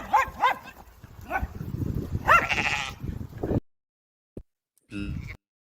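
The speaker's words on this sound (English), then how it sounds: "Yes, so that's the lawnmower keeping the grass down." Sheep bleating in a rural Portuguese field where they graze the grass, several wavering bleats with a dog barking among them, then a short gap and one more bleat.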